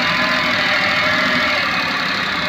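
Maruti 800 engine idling with vibration, a steady close mid-pitched running hum with a rough knocking texture, continuous and unchanging, no voices.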